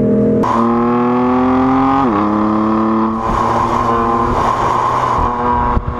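A BMW six-cylinder twin-turbo diesel engine revs hard up close, its loud, steady drone climbing in pitch, dipping briefly, then holding high and sustained throughout.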